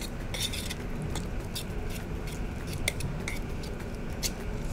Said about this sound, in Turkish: Aynı şekilde yeniden karıştırmaya devam ediyorum.